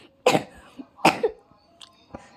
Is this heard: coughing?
yes